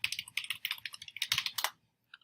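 Rapid keystrokes on a computer keyboard as a phone number is entered, a dense run of crisp clicks at close range that stops abruptly, followed by two isolated taps after a short pause.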